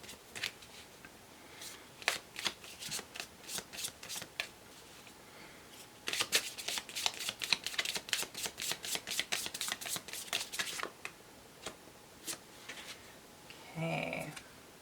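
Oracle cards being shuffled, quick riffling flicks in bursts that pause and resume, close and fairly faint, ending with a brief soft murmur.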